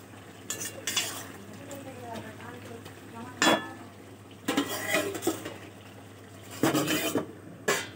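Meat cooks in a pot, stirred in intermittent bursts of scraping and clinking against the metal over a soft sizzle, with brief quiet speech.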